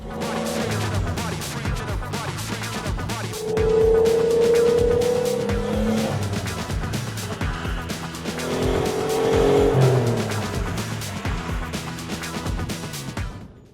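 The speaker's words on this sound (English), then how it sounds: "Get up to speed, pull the handbrake." A car engine revs hard under continuous rattling and mechanical noise, with two sustained tire squeals as the car skids through turns in a handbrake drift.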